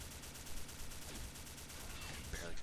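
Rapid automatic gunfire from the Combat Arms shooter game, a dense continuous stream of shots lasting throughout with steady loudness and faint talk underneath.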